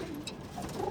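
Pigeons coo softly in a domestic loft, a brief low murmuring call heard faintly and alone.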